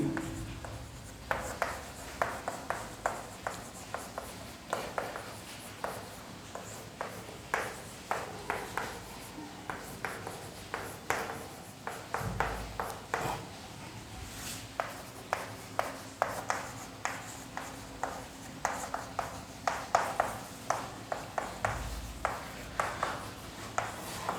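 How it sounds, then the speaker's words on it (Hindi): Chalk or pen writing on a board during a Hindi chemistry lesson on mass and weight, heard as steady runs of short scratchy strokes and taps, fairly close and continuous with no talk over them. "आइए लिख देते हैं।"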